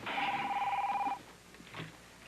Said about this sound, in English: Quick, get the phone,